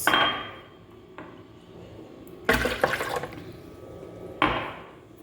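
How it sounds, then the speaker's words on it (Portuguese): Water poured into a blender jar, splashing and gurgling in three separate bursts, close and moderately loud with hard glassy resonance, alone without talk. "vou colocar logo a água aqui no liquidificador"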